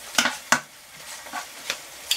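Butter and pan contents frying for a savoury macaroni cheese, a soft sizzle punctuated by several sharp stirring scrapes and clicks of a utensil against the pan, close by and with no talking.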